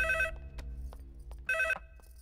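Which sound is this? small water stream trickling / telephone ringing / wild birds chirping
telephone ringing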